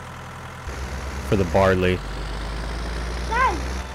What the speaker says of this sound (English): We'll use that tractor right there